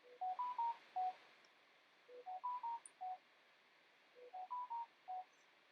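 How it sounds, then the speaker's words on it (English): A phone plays repeated text message alert tones, three quick bursts of short rising and falling electronic beeps, fairly faint over a soft steady hiss with no talking. "Excuse my phone. It is no one else but my best friend texting me back to back."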